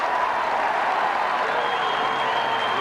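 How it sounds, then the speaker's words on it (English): A football stadium crowd of 15,000 to 20,000 at a 1988 SANFL match between Port Adelaide and Central Districts roars continuously in a broad, sustained wash of cheering and applause, loud and unbroken throughout. "Listen to the crowd."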